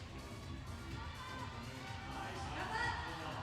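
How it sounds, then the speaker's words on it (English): Crowd noise swells at an IFSC Climbing World Championships lead final in Hachioji, a steady wash of voices and cheering that lifts toward the end, with a commentator talking over it. "Crowd really coming to life now and giving him a lot of encouragement"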